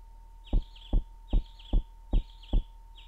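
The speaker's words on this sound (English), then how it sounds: "Where's that bird chirp coming from?" A bird chirps in the video game LSD: Dream Emulator, short double-note calls repeating in a steady rhythm, seven in quick succession over a faint low hum.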